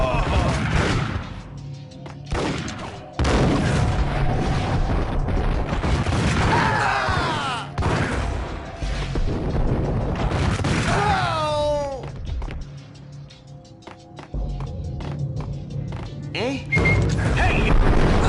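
Game gunfire and explosions: booming blasts and cracking shots in dense bursts throughout, loud and close, with a speaking voice mixed in.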